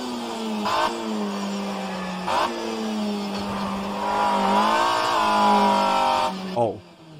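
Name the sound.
90s BTCC touring car engine in rFactor 2 racing game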